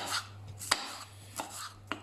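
A slightly blunt knife slicing toast on a chopping board for pizza toast, producing several soft, crisp crunching strokes spaced unevenly and heard close and alone.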